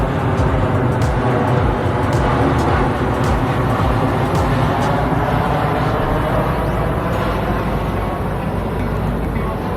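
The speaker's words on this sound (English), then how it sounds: "an aeroplane as it comes in" A loud, steady roar of an aeroplane coming in to land fills the scene throughout, a low rumbling drone with no clear change in level.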